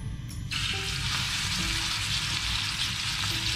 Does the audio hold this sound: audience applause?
no